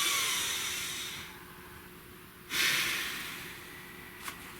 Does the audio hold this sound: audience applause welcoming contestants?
no